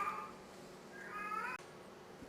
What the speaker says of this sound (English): That cat, man, I tell you, that cat goes in heat like once every month, and it just never stops